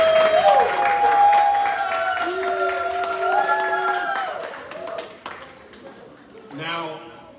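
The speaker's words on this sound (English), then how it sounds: "Round of applause. Let's make some noise for him." Audience clapping and cheering at a family honoring event, scattered claps running under voices and tonal sounds, fading toward the end before a brief burst of talk.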